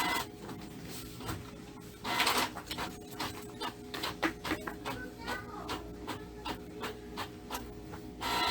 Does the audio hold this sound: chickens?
no